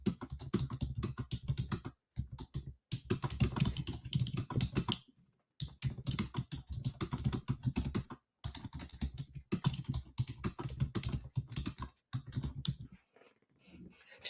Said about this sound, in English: when I'm about to type in the chat